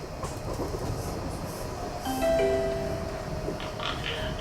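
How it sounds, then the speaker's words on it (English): Passenger train running from Copenhagen airport to Malmo, a steady rumble of the carriage rolling on rails with faint wheel squeals and brief tonal whines rising midway, heard from inside with no talking. "from here at Copenhagen airport to Malmo is only 30 minutes by train"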